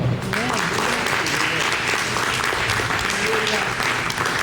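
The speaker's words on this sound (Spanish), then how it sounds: "Denle un aplauso al Señor." A church congregation applauds the Lord at a Spanish-language ministry service, a steady wash of many hands clapping throughout with voices mixed in beneath.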